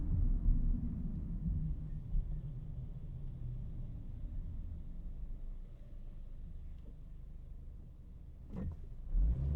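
Interior ride in a 2013 Honda Fit on snow tires, heard binaurally from inside: a steady low engine and road rumble with muffled tyre noise, a brief louder bump near the end, no speech.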